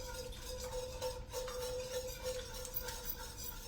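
A whisk stirring cream in a pot on the stove for a chicken pineapple curry, a faint steady scraping and light metallic clinking against the pan, continuous with no talking.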